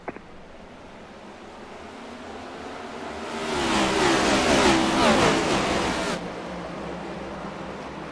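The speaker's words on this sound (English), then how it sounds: "Green flag. Let's go." In the iRacing video game, a pack of race cars surges away at the green flag at New Hampshire, a roaring engine rush that swells over a few seconds and cuts off abruptly, with no talk.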